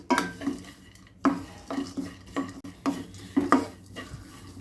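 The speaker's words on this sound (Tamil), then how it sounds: "இதை நல்லா கொஞ்சம் வதக்கிக்கலாம்" A spoon stirs almonds, cashews and pistachios roasting in a pan, with rhythmic scraping and clinking strokes repeating steadily, close and clear with no talking.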